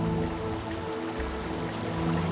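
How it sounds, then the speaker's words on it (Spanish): Water pours steadily down the 40-metre Chorros del Varal waterfall amid vegetation in Michoacán, a broad continuous rushing wash heard from nearby without pause. "La vegetación y el sonido del agua atrapan la atención"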